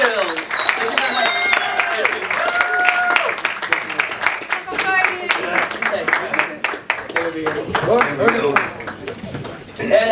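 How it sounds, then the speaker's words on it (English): A film festival audience applauds actors after a screening Q&A, steady clapping running under loud, continuous talking and crowd voices for about ten seconds. "please give them a round of applause"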